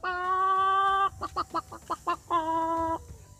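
A man imitates chickens mating with his voice, loud and close: long harmonic squawks bracket a run of rapid rhythmic clucks, alone without other talk.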